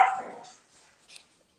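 A single sharp dog bark, loud and close, that fades within half a second, followed by a faint short yip.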